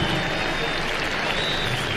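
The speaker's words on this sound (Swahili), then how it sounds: "Tuwape makofi tafadhali wananchi" Applause from a crowd at the KDF Museum air show festival at Uhuru Gardens, a sustained dense clatter of clapping with a faint tonal whine over it, loud and continuous.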